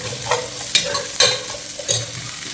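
Fish pieces frying in hot oil in a pan for fish curry, stirred with a utensil in several distinct scraping strokes over a steady low sizzle, close and alone.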